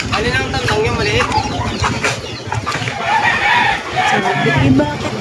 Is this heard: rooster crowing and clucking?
yes